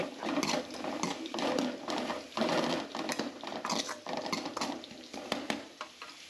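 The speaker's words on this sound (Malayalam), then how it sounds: "നല്ലപോലെ മിക്സ് ചെയ്യണം" Chicken biryani masala being stirred and mixed in a pan, with a steady run of scraping, patting strokes and soft sizzling close by, no one talking.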